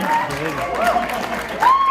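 Applause and crowd noise from the audience at the Furpocalypse 2019 furry convention opening ceremony, a steady wash of clapping with a spoken voice on top throughout.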